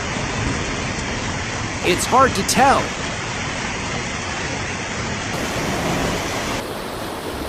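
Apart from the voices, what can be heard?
floodwater pouring over a bridge in Italy like a waterfall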